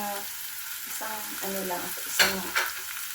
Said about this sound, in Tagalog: At dito ilalagay ko na itong ating giniling.